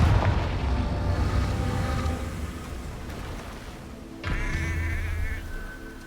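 Confringo fire spell in Hogwarts Legacy: a booming blast with rumbling tail, then a second sharp burst and ringing crackle near the end, loud and close with no voices.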